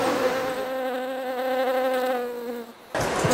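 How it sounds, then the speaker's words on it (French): Wasps buzz around cakes, a close, steady droning hum that wavers slightly in pitch as an insect hovers near, then cuts off abruptly into background noise. "les gâteaux sont pleins de guêpes."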